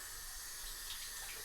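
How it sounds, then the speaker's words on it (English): Tap water runs steadily from a faucet as pork chops are rinsed under it, a close, continuous hiss of splashing water with no voices. "I wanna go ahead and rinse it."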